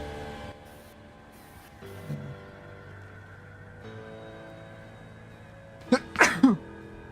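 A single sharp sneeze bursts out near the end over quiet background music from a Disco Elysium game session, brief and close.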